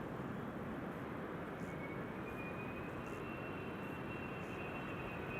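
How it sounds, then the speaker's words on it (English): Aircraft engines spool up at Amsterdam Schiphol Airport, a loud, steady broadband roar with a faint whine that slowly rises in pitch, continuous throughout with no voices. "I'm hearing engines spooling up"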